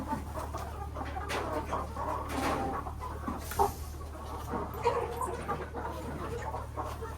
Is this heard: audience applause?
no